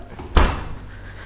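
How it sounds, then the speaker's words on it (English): A door pushed shut with a foot in a home kitchen: a single dull thud of the door closing, close by, over a steady low room hum. "And I close the door with my foot."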